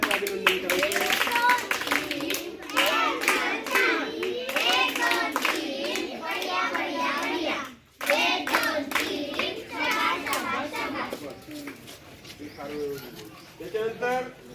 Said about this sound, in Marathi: सगळ्यांनी टाळ्या वाजवून त्यांचे अभिनंदन करायचे